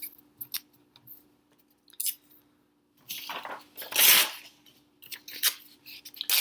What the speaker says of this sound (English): you're just going to be taking those papers and ripping them off